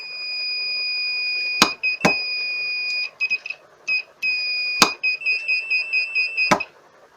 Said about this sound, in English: There's a bit of an annoying beep on this